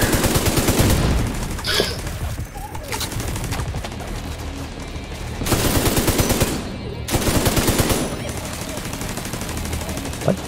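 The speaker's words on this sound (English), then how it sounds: "I'm just letting my turret go to town" An automated turret in The Division 2 fires in sustained bursts of rapid gunfire, loud and close, with brief pauses between volleys over busy battle noise.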